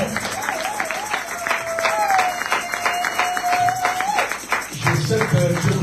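A church congregation at a Bible seminary applauding and cheering, with rhythmic clapping and crowd voices under a sustained amplified tone, with people talking throughout.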